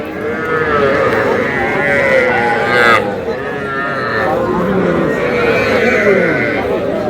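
A young bull calf lows repeatedly at the Aftabganj cattle market, with several drawn-out moos over a bustling background of market crowd noise and a brief sharp knock midway.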